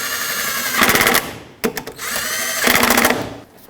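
A power tool snugs two bolts securing the upper radiator hose on a 2007-2010 Chrysler Sebring, two short whirring bursts about a second apart, close by, separated by brief clicks.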